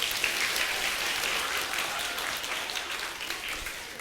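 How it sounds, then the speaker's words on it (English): Audience applause fills the room steadily for several seconds, dense and even clapping from a crowd at a live motivational talk, loud and continuous without voices on top. "Give yourself a round of applause"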